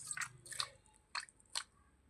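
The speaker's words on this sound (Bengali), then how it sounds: "এবার আমি ময়দাটাকে জল দিয়ে 8-10 বার এরকম করে ধুয়ে নেব।" Kneaded flour dough squeezed and washed by hand in a bowl of water, four soft wet squelches with small splashes, close and quiet, no voices.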